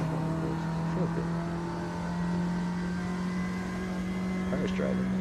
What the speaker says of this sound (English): Car's driving nice.